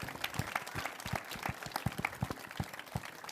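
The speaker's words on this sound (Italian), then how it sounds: "Applauso." Applause in a football talk show studio, a small group clapping with distinct, irregular claps at close range, fairly quiet.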